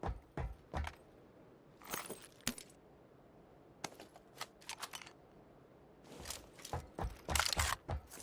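Sharp, irregular keyboard clicking and clacking in quick bursts separated by short pauses, close up, with no talking.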